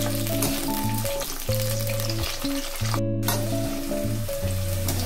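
Mixed vegetables including okra frying on a tawa, with a steady close sizzle and occasional stirring scrapes under loud, prominent background music, without talk.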